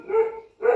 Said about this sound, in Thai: ไอ้นโมนี่มันเห่า